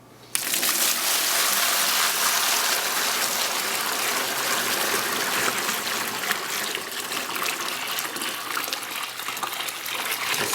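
Hot strike water around 171°F gushes steadily into a closed-valve mash tun while brewing a stout, a loud, continuous pour starting abruptly and running throughout without talk.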